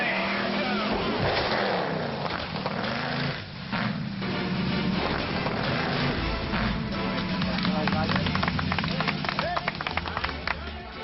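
A stunt car is driven hard during a Hollywood film stunt, its engine roaring continuously with revs rising and falling, close and loud, while voices are partly audible beneath it.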